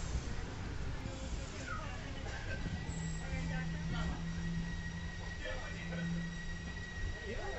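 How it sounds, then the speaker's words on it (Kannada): Train rolling through Kamalanagar railway station in Karnataka, a continuous rumble from inside the carriage with faint wheel squeals and a sustained tonal whine, muffled background voices underneath. "ಈಗ ಕಮಲಾನಗರ್ ರೈಲ್ವೆ ಸ್ಟೇಷನ್ ತಲುಪಿದ್ದೀವಿ"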